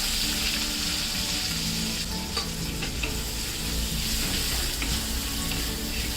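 Onion sautés in oil with cumin, mustard seeds and asafoetida in a pan, a continuous loud sizzle with brisk stirring scrapes and clinks near the microphone, no talking.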